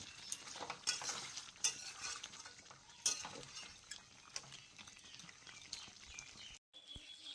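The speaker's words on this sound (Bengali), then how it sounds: "আলু দিয়ে একটু কষিয়ে নেব" Chicken and potatoes stir-fried in a pan, with soft sizzling broken by intermittent scraping strokes and clanks of a spatula against the pan, close and fairly quiet, no talking.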